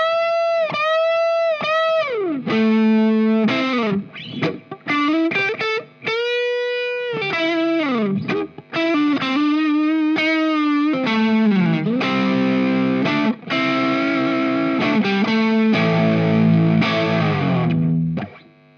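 An electric guitar played through a BOSS OD-2 Turbo overdrive pedal, using the neck pickup, sounds gritty and distorted. Sustained notes, bends and chord phrases come with brief pauses between them.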